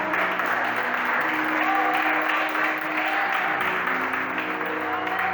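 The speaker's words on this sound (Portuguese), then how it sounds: "aplauda ao Senhor." Steady, dense applause from a large congregation at a church worship service, loud and continuous with a faint murmur of voices underneath.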